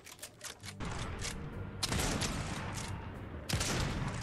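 Rapid bursts of automatic gunfire in the battle royale video game Fortnite, dense cracking volleys that swell louder partway through and continue to the end, with no talk.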